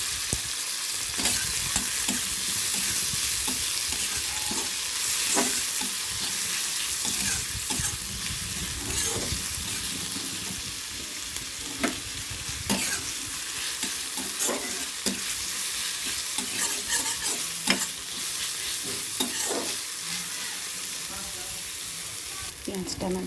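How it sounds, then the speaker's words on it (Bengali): Whole garam masala and spices fry in hot oil for an egg curry, giving a steady close sizzle broken by frequent clinks and scrapes of stirring throughout. "গোটা গরম মশলা আর দিয়ে দিলাম কিছু মশলা, এটাকে ভালো করে ফ্রাই করে নেব।"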